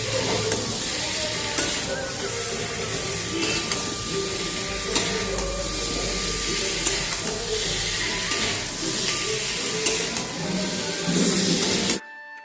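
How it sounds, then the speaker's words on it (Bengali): Potatoes and tomatoes are stirred with spices in a hot frying pan, giving a loud, continuous sizzle and hiss with scraping stirring strokes throughout, ending abruptly. "এবার এই মশলাটার সাথে ভালো করে আলু আর টমেটোটাকে নাড়িয়ে চাড়িয়ে নেব"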